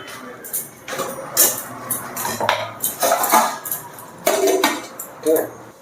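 Metal cutlery clinks and scrapes against a plate and pots as rice and rajma are served, a run of close, irregular clatters and taps with short pauses between them and no talk.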